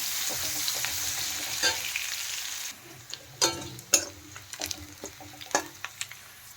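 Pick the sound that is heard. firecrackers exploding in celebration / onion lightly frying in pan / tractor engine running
onion lightly frying in pan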